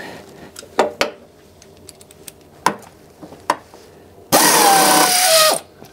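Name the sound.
unscrewing four overtightened screws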